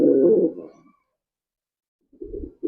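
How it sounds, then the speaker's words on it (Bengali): An angry, very active male pigeon on a farm gives two short, low, throaty coos close by, separated by a brief silence. "দেখেন খুবই অ্যাক্টিভ একটা কবুতর"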